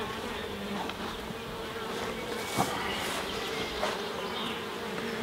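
Calm honeybees from a new queen's colony hum at an open hive while frames are inspected, a steady near buzzing drone with a couple of soft knocks.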